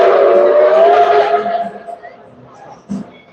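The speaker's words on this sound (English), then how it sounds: "I hear the train." A train at the Dollywood theme park sounds a steady, harmonic whistle for about a second and a half that fades as it goes on, followed by faint background noise and a brief thump.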